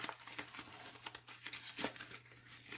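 Egg cartons ripped up by hand for a red wiggler worm composting bin, heard as quiet close crinkling and irregular papery tearing bursts.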